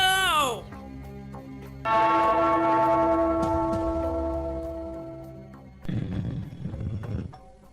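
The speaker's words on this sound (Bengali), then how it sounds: "ওই ঘন্টাটা বাজাও, বাজাও।" A cartoon bell painted with a moon is struck once and rings out loud and long, its tone slowly fading over several seconds before a voice cries out.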